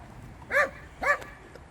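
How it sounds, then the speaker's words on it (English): A small black and white dog gives two short, close barks about half a second apart, with no other sound around them. "Cute little black and white dog."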